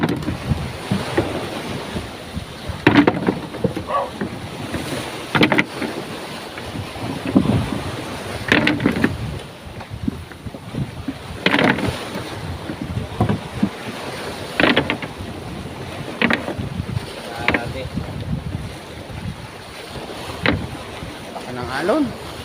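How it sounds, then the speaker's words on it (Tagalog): Big sea waves slam against a small fishing boat loaded with nets, delivering repeated sharp thuds and splashes every few seconds over a steady rumble of wind and water, loud and close. "Laki ng alon."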